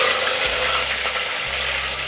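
Curry leaves and green chili sizzling in hot oil with fried spices, a steady loud crackling hiss with no talk.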